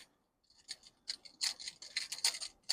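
A click pen snaps close by in a quick irregular run of sharp light clicks after a brief silence.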